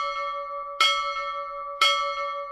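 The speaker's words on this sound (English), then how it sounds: "One stroke of the ship's bell indicates the first half hour of the watch" Two clear, ringing strikes of a ship's bell aboard a vessel on a voyage, evenly spaced about a second apart, each with a sharp metallic attack and a long sustained tonal hum between them.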